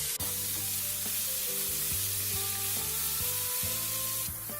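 Onions and chopped capsicum sizzling steadily in a hot pan, a loud, close crackle with occasional stirring clicks and scrapes and no talk.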